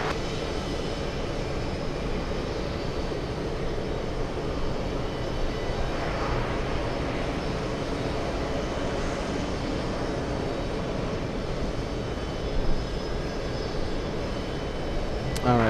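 A Cathay Pacific airliner's engines roar steadily at JFK airport, a broad continuous rumble filling the whole stretch with no break, heard from a spotting position at moderate distance.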